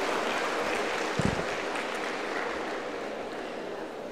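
Audience applause welcoming a guest speaker at an institute's social internship program event on malnutrition: a steady, washy roar of many hands clapping from a crowd, sustained and fairly even, with a brief low thump partway through.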